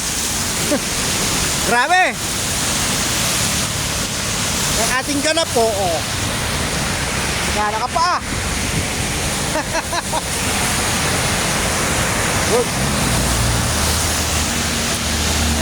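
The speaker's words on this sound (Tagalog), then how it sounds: "At malakas ang ulan, no?" Heavy typhoon rain pours in a steady, loud roar that never lets up, with someone talking over it and brief whooshing passes from nearby traffic.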